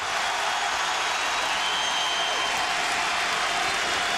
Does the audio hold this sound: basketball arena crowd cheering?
yes